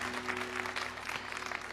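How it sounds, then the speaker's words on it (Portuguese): A church congregation applauds during a Portuguese-language sermon, a steady wash of clapping heard briefly and somewhat faintly over a low hum. "Então bata palmas para Jesus."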